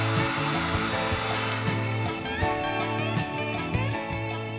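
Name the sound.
heating Harley Fat Boy fork legs with a heat gun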